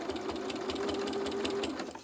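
A domestic sewing machine runs tacking stitches through fabric for an advent calendar project. The whirring is close and steady with a fast, even stitch rhythm, and no one speaks over it.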